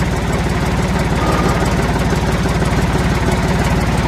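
Engine of a 1985 John Deere 350C running steadily at idle, a loud, close, even diesel chugging with a rapid pulsing rhythm and no talk.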